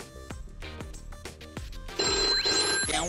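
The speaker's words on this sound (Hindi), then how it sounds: "किसका फोन था?" A landline telephone bell rings in repeated bursts at a steady rhythm, then a louder, brighter electronic tone sweeps upward near the end, all without talk.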